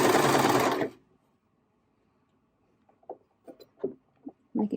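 A sewing machine stitches a curved hem in one loud, steady burst of under a second, then stops; faint handling taps and fabric shuffles follow.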